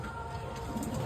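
Pigeons at their loft on a rainy, stormy day come out to drink water, with soft, low cooing faintly heard against steady background noise.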